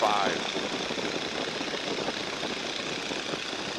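A Stearman biplane's radial engine drones steadily in flight, a continuous close rumbling roar filling the cabin throughout.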